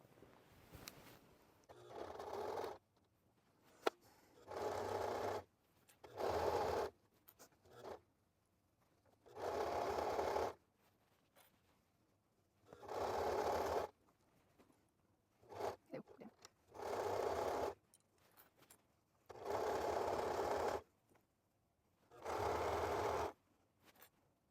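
A sewing machine stitches the bottom seams of a jeans leg being upcycled into barrel-leg jeans, running in about nine steady bursts of a few seconds each, separated by short pauses, close and fairly loud with no talking.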